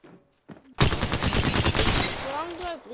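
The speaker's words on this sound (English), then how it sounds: "I am taking fire" Dense rapid gunfire in the video game Apex Legends bursts in loud and close after a brief quiet start, volleys overlapping continuously with a faint voice briefly underneath.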